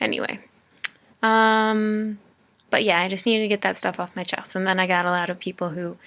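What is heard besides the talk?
No distinct noise like a dog, phone or traffic.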